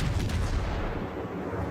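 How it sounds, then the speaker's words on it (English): Naval guns of an enemy cruiser fire in World of Warships, a heavy booming barrage with rumbling echoes, loud and continuous for a short moment with no talking. "The other enemy cruiser is shooting at me."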